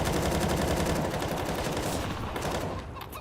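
Dense, continuous gunfire in a Counter-Strike spam fight, rapid overlapping automatic bursts filling the whole moment loudly with barely a pause, easing slightly near the end.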